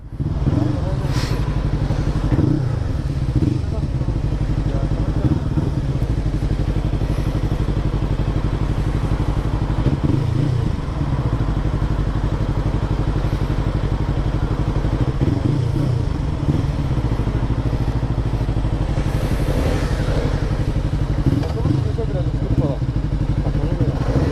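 A Honda CBR250 motorcycle rumbles along with its engine revving and easing in repeated surges, close and loud, with clattering thumps and riders talking over it.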